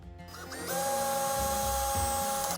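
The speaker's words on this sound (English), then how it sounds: "And then we're going to fix it through this wall with these screws." A power drill drives thick structural screws through a timber cabin wall, spinning up close and loud in one steady whine that labours and drops in pitch as the screw bites, then stops.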